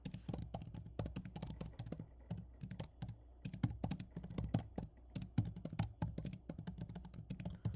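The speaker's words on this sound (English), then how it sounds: "hold on, I'm going to stop talking while I type." Rapid, uneven keystrokes on a computer keyboard, close and clear, in bursts with short pauses and no voice over them.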